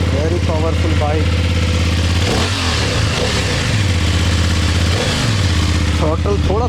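A 2026 BMW F800 GS motorcycle engine runs close by, idling with a steady throb and then revving sharply in repeated blips, loud throughout, while someone talks over it.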